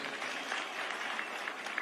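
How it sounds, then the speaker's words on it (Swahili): Crowd applauding the president at a thanksgiving event in Siaya, a brief burst of dense, steady clapping from many hands with no pause. "Wapi makofi kwa rais wetu?"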